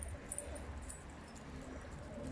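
A young pigeon coos softly after landing at a pigeon loft in Defne, Hatay. Low, murmuring coos run steadily for a couple of seconds against faint background noise, with no voices.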